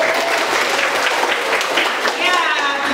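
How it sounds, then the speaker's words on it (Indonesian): A class of students applauds in a classroom, giving steady, dense clapping throughout, with a voice coming through near the end. "tepuk tangan dong"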